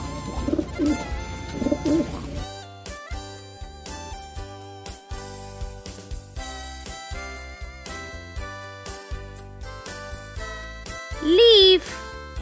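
A pigeon or dove coos in short, rounded calls that sit among other sounds: tinkling, tonal notes and a voice speaking. The cooing is near and clear, with the busiest calls near the end.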